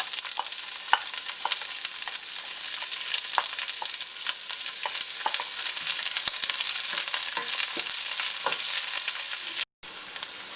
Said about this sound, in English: the garlic is turning golden brown and the onion is translucent